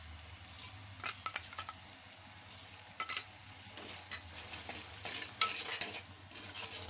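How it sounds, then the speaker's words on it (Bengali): Spices frying in a pan for doi cholar dal, a Bengali chana dal dish with yogurt, with a spoon repeatedly scraping and clinking against the pot over a low sizzle, the bursts of stirring irregular and fairly close. "আমি এবার মশলাটাকে একটু ভালোভাবে কষিয়ে নিচ্ছি।"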